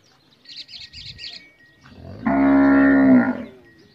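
A Nili Ravi buffalo on a farm gives one long, deep, loud moo, with faint bird chirps and low grunts just before it.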